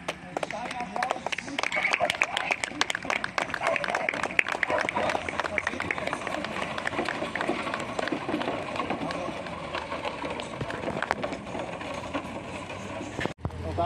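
An audience at a local cultural gathering beside a heritage railway parade of horse-drawn carts claps steadily for about fourteen seconds, a continuous patter of hands at moderate distance with voices audible underneath.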